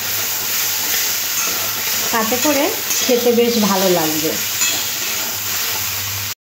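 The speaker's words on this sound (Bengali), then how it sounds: "এবার লতিটা ভেজে নেব। দু থেকে 3 মিনিট লতিটা ভেজে নেব" Taro stolons (kochur loti) frying and being stirred in a pan for a prawn dish, a loud steady sizzle and hiss close by, while someone speaks over it partway through.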